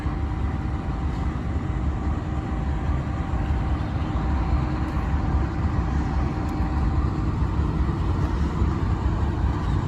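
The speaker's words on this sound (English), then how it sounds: "It's definitely got the old GE engines with the classic alternator sound." Old GE diesel locomotive engine with a classic alternator whine, a steady loud rumbling drone with a faint tonal hum on top, running continuously without talk.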